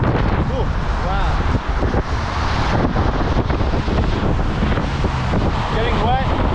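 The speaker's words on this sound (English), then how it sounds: "You can hear that wind in the background." Strong wind roars steadily through a rainy summer run outdoors, a loud continuous broadband rush with gusty swells that stays up front for the whole stretch.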